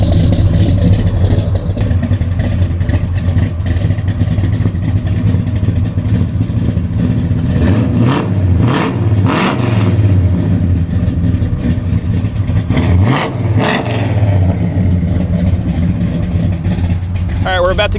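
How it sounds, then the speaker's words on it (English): A 1972 Chevelle with a 454 big block and a lumpy cam idles loud and close, swelling into a few quick revs near the middle and again toward the end, with a voice talking over the steady rumble. "Sounds extremely healthy. You can hear that cam rolling."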